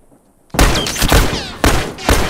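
Loud rifle shots ring out in The Last of Us Remastered after a brief quiet start, two sharp blasts with ringing tails and a ricochet-like whine between them.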